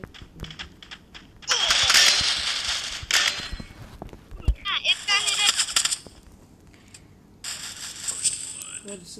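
An MP40 submachine gun fires in a video game, several rapid bursts of close, loud automatic gunfire separated by short pauses and quieter game sounds.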